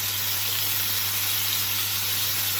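Chicken thighs sizzle in a pan in a steady, even hiss of frying fat, heard close up beneath a low constant hum, with no voices.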